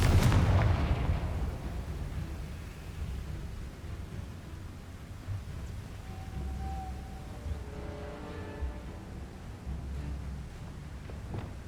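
A Confringo blasting spell in the Hogwarts Legacy game lands with a heavy booming explosion at the start, then a long rumbling tail of debris and low crackle fades over several seconds.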